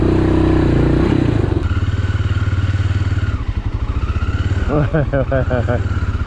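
A motorcycle engine revs and labors loudly up close while riding through thick mud, sputtering with uneven throttle, as a voice talks over it near the end.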